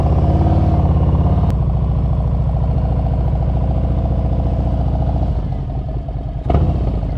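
A motorcycle engine idles and rumbles steadily up close while the rider preloads the throttle for a quick pickup, loud throughout with a brief rise near the end.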